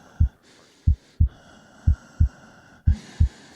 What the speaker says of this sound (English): We'll find her by the sound of her heartbeat.